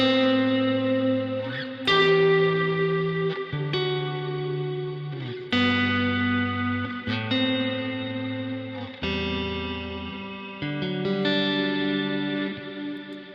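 Synthesized notes from a Logic preset ring out in sustained, bright chords that change every second or two, bathed in a long reverb tail and a shimmering chorus-like wash.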